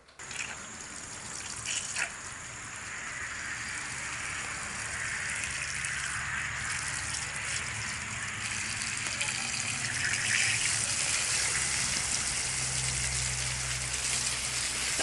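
Water gushes steadily from a broken pipe near a home's porch, a loud continuous hissing spray that grows slightly stronger over time, with a low hum entering near the end.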